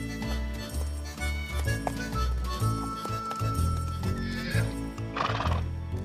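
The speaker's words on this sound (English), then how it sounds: "Harold wanted to make sure his horse was absolutely ready" A cartoon horse clip-clops with steady hoofbeats and lets out a neigh near the end.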